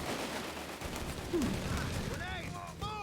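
Heavy machine gun fire rattles through a Company of Heroes 3 battle, a dense continuous mix of gunfire and distant blasts running the length of the moment under other battlefield noise.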